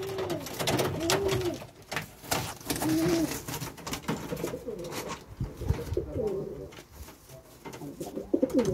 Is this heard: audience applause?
no